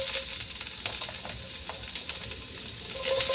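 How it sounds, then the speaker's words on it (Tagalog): Onion and garlic sautéing in a hot pan, a steady soft sizzle with occasional spoon scrapes and clinks against the pan, no talk. "Gisay na natin itong sibuyas at saka bawang"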